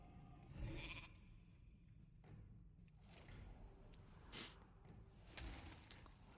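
A World of Warcraft polymorph spell turns a target into a sheep, and its faint bleat comes through once amid soft game ambience and small clicks.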